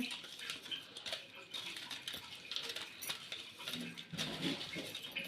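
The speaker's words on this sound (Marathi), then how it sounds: "तर आता हे शेंगदाण्याचं कूट पण आपण छान असं मिक्स करून घेऊया" Roasted peanut powder is stirred into a brinjal vegetable masala in a pan, with repeated scraping and clinking of a spoon against metal at close range, irregular and busy throughout.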